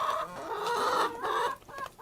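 Small group of chickens, including a golden hen, clucking close by in a short burst of several overlapping clucks and calls, fairly faint.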